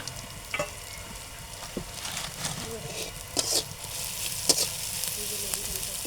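Panch phoron spices hit hot oil in a kadai and sizzle steadily, with a dense, close crackle broken by occasional sharper pops and faint stirring clicks, heard alone without talk.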